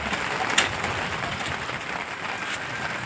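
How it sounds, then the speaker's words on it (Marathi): Heavy rain pours down in a steady, dense hiss that holds evenly throughout, with one brief sharper call rising near the start. "लय जोरात पाऊस येऊ राहिला."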